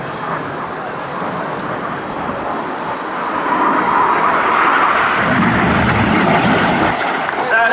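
RAF Red Arrows jets fly the 6G carousel at the AirPower Over Hampton Roads 2008 air show, a steady loud roar that swells toward the end while an announcer's voice carries over it.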